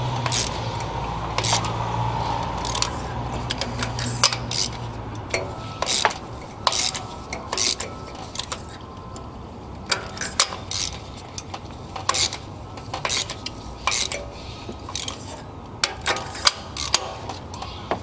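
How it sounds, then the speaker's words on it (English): A socket wrench loosens the spark plugs on a Toyota 2AR-FE 2.5L engine with a rapid, continuous ratcheting click, close and steady throughout, over a low background hum. "using a 5/8 socket, you can go ahead and loosen these all up."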